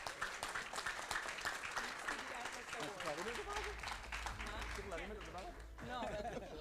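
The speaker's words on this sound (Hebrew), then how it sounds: "מחיאות כפיים לזוכה" An audience claps for a double award winner at The Atlas Award 2026 ceremony, steady applause running throughout while a voice talks over it.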